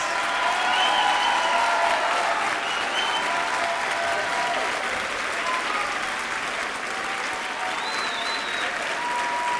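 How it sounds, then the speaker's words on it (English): A large crowd at a graduation ceremony gives the standing graduates a long, even round of applause, dense and steady for nearly ten seconds, with occasional faint cheers and whistles on top. "I'm going to ask you to please congratulate them with a big round of applause"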